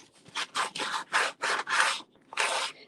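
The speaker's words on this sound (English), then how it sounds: "I just take a sanding block, a painter's sanding block, and just do that on there" A painter's coarse sanding block rasps back and forth across an edge in six or seven steady strokes, close and distinct, with brief pauses between.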